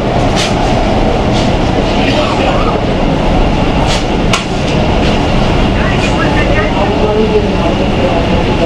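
Kolkata Metro Green Line train running underground between Sealdah and Esplanade, a loud steady rumble and rail roar filling the whole stretch, with a voice talking faintly beneath it.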